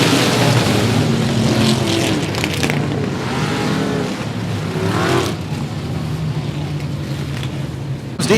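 Race cars roar around a speedway oval at 105 Speedway during a regular race program, a dense continuous engine drone lasting throughout with shifting revs and passing swells.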